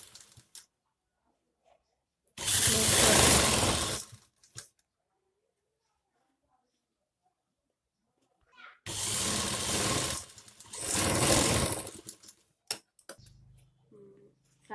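A sewing machine stitches a long frock in two bursts of steady running, one short and one longer, separated by silence, with a few small clicks afterward.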